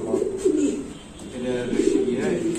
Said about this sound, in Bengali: আমি আর একটা কবুতর দেখাই দিয়েছি যেটা আমার ফার্স্ট কবুতর